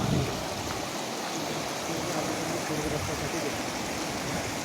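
Fast-flowing floodwater rushes past in a loud, unbroken roar that holds steady throughout.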